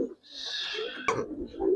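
A pair of khaki pigeons coo up close, a soft drawn-out call followed by a sharp click and low murmuring sounds.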